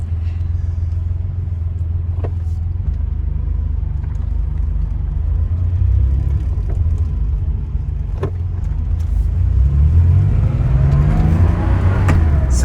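A 1986 Porsche Turbo-look Targa pulls away in first gear, its engine rumbling low and steady close up before climbing in pitch as it revs toward the end.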